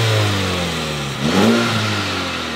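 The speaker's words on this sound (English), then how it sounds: "let's just show you the difference between the new exhaust and the old exhaust" A Mini Cooper engine with stock exhaust idles with a low drone, then a quick rev rises and settles back, fairly close and unaccompanied by talk.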